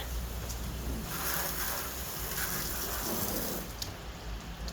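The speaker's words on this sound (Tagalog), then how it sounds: "And then it's still raining." Rain falls steadily outdoors on a freshly washed car, a continuous close hiss of drops with faint patter that stays even throughout, with no voices.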